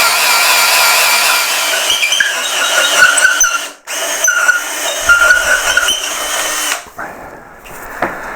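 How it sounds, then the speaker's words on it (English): An old drill with a wobbly bit bores a hole into a Hepworth-style carved sculpture, giving a loud, steady whining grind with squealing overtones that cuts out briefly twice before stopping near the end. "You might have noticed that there's a bit of a wobble on this drill bit"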